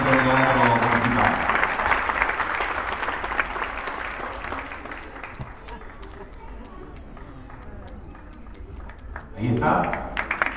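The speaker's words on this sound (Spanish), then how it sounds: "para recibir un aplauso" An audience applauds inside the Teatro Municipal de Chillán at the closing ceremony of a dance gala. A voice talks over the start, then sustained clapping continues and swells again near the end.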